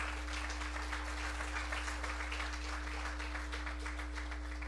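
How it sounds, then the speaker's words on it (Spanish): Congregation applauding during a church Bible study on Leviticus, a steady, fairly faint wash of clapping that runs through the whole span over a constant low electrical hum. "dele palmas al Señor Jesucristo"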